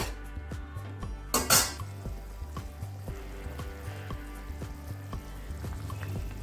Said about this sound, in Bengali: এবার দিয়ে দিচ্ছি জল এবার এভাবে একটু নাড়িয়ে দেব তরকারিটা